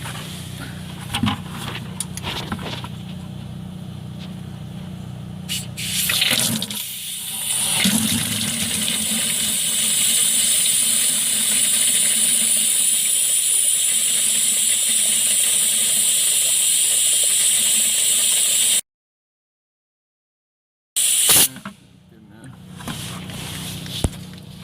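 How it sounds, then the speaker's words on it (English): Transmission fluid back-flushing out of the cooler line on a Ford Super Duty with a 5R110W transmission: a steady, loud hissing gush that runs for many seconds, a short silence, then a little more trickling and handling noise. "our entire transmission cooler is going to be drained out that square hole"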